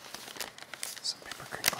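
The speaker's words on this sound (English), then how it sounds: "some paper crinkling" Paper crinkles softly and close up for ASMR. The crackles and rustles are uneven and fade in and out, with faint whispery breaths among them.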